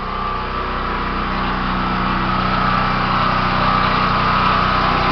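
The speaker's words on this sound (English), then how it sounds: "A little emergency generator." A small emergency generator runs steadily at close range after a tornado, its engine droning with a constant buzzy hum and no pauses or voices.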